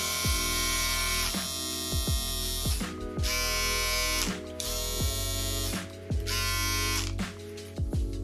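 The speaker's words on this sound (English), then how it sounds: "I absolutely love these little shavers." Stylecraft Uno electric shaver motor buzzing loudly and steadily, switched on and off in several short bursts with brief clicks between runs.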